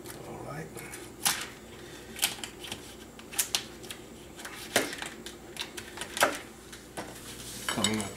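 A knife chops through a cooked lobster head on a board in a home kitchen, giving a few sharp, separate cracks and thuds against a constant low background hum.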